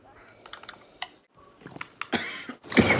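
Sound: cough

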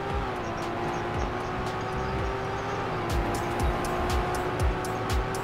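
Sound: car driving in Roblox video game Car Crushers

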